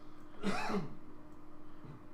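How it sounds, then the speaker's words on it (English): A single short cough or throat clear from a person outside, muffled and somewhat distant, over a faint steady hum. "there's a person coughing outside"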